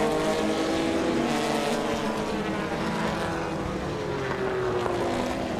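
Vintage Triumph TR6 sports cars racing in a pair down the corkscrew, a steady loud engine drone with shifting pitch as the cars pass, continuous throughout with no talk.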